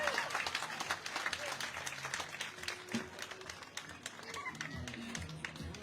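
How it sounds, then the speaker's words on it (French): Crowd applause for the winning crew on the podium at a national historic-car rally near Mâcon, sustained clapping with scattered sharp claps, a voice talking faintly over it at times. "Applaudissements pour Alexandre Berthier et Maxime Paulin, qui remporte ce 41e rallye national VHC devant Mâcon."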